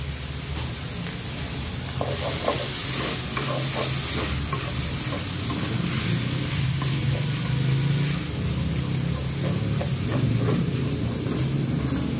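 Mushroom slices sizzle and fry in a pan for homemade spaghetti sauce with chicken mince, a steady loud crackling hiss with occasional stirring clinks, close and continuous without talk.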